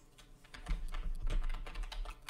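Fingers tap quickly on a computer keyboard, close and crisp, with rapid uneven keystrokes running throughout and no voices.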